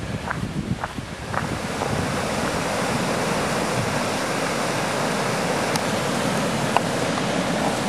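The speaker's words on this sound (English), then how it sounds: "I came down the hill and there's that waterfall, and it is just absolutely beautiful" A waterfall seen from a hiking trail makes a loud, continuous rushing roar that fills the scene, with a few faint crunching steps near the start.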